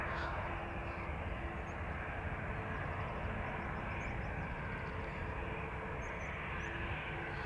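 A KLM airliner climbing away after takeoff at Amsterdam Schiphol Airport, a continuous broad jet-engine roar that holds steady at a distance with no break.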